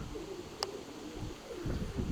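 Pigeons at a loft cooing softly, low repeated coos close by under faint background noise, with one brief sharp click partway through.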